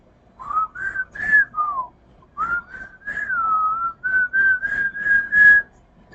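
A person whistles a series of bright, warbling, birdlike notes, some sliding up and down, in short phrases with brief pauses, close and fairly loud.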